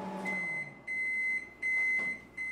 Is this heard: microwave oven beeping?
yes